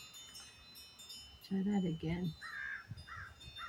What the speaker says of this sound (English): Hear the crows over yonder calling.